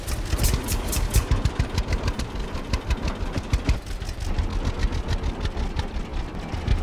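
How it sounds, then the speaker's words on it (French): A tractor engine in the farming game Farmer's Dynasty runs steadily and loud, a throbbing idle-like rumble with a regular pulsing beat that continues alone throughout. "voilà notre premier tracteur"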